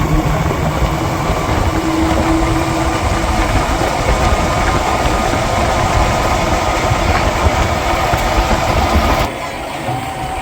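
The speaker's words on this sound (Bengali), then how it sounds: "অটো পাইছি সামনে, অটোতে উঠে পড়ছি।" Steady engine drone of a moving auto-rickshaw fills the ride, loud and continuous with road rumble, dropping slightly in level near the end; no talk.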